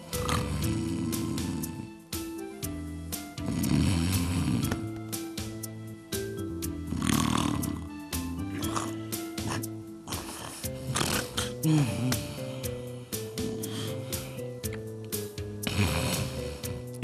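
A man snoring loudly in a comedy scene, harsh rasping snorts repeating close and loud throughout, with other voices and noises mixed in.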